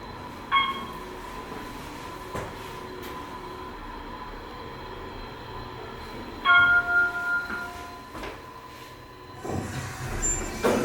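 An Otis Series 2 hydraulic parking elevator at a resort descending to an underground level, a steady low cab hum with a faint tone, interrupted by a couple of louder rumbling jolts and clunks near the end.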